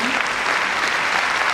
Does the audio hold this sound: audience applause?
yes